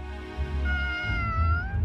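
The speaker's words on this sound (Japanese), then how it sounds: "他にも猫が数匹いるようだな。" A cat meows in the Sword Art Online Alicization Lycoris video game, where several cats and kittens gather. One drawn-out, rising meow rings clearly over a soft low background.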